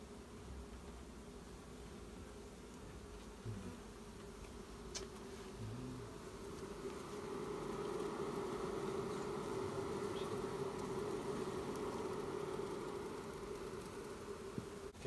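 Honey bees being shaken into a hive from a newly arrived package produce a dense, continuous buzzing drone that swells louder midway and holds steady, close to the microphone with a few faint knocks and no talk.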